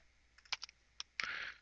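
Computer keyboard keys clack in a few quick, sharp taps, then a short burst of rapid typing, close and fairly quiet with no voices.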